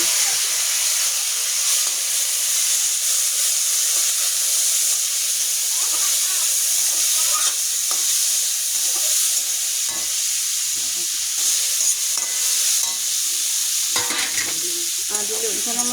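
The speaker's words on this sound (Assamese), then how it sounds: "এইফালে এতিয়া মই কাটি থোৱা গাজখিনি এনেকৈ ভাজি ল'লোঁ।" Chopped carrots fry in a pan for carrot and masoor dal. A loud, continuous sizzle runs throughout, broken by scraping stir strokes near the end.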